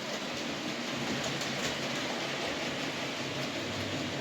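A Hornby model locomotive running round its track gives a steady, continuous whirring rumble with no breaks, close and even in level, with no talking over it.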